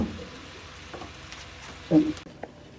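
Okra frying in a pan, a low steady sizzle under a few soft stirring scrapes and one brief louder clatter, close by with no talking.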